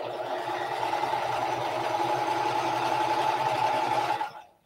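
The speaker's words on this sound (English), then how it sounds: "I'm gonna press this and sew the open edge closed" A sewing machine stitches the open edge of a fabric strap closed in one continuous, steady whirring run close by, then stops abruptly near the end.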